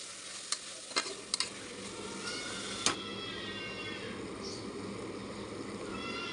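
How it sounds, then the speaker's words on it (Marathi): Potatoes sautéing in hot oil in a pan for a quick pressure-cooker rice dish, a steady close sizzle with a few sharp clinks of stirring early on, no talking. "आता बटाटे टाकते बटाटे चांगले परतून घेऊया आपण तेलामध्ये"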